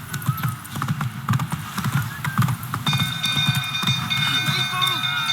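Roach, a horse in The Witcher 3, gallops with rapid, continuous clip-clop hoofbeats close by, layered over game sounds and a rising musical tone.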